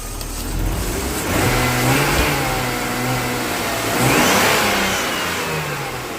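A BMW E39 inline-six car engine runs close by with a smooth, steady hum, rising in a couple of gentle revs before settling back, no talking.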